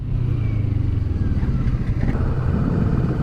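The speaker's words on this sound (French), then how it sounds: "Son moteur est un bicylindre en ligne de 649 cm3" A Kawasaki Vulcan S motorcycle's 649 cc parallel-twin engine idles and rumbles steadily with a deep low throb, recorded close by, with faint clatter and no talking.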